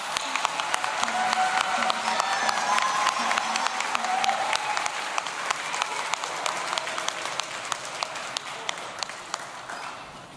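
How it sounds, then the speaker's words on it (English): A crowd at a Native American graduate honoring ceremony gives a round of applause, dense clapping with some cheering and a voice over it at first, then thinning to scattered individual claps that trail off. "So let's give them one more round of applause."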